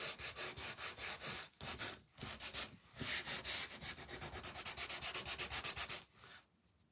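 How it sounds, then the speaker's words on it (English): Repeated back-and-forth sanding strokes on a wooden snowman hat craft piece, a steady rhythmic rasping close by with a few short pauses, and no talking. "Get this sanded, and I'm not going to take a whole lot off."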